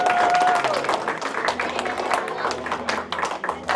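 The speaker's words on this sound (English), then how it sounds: "Round of applause." A school audience at Green Acres School gives a round of applause during a Celtics donation event, a loud, dense, sustained clatter of many hands with a brief whistle at the start and some crowd voices mixed in.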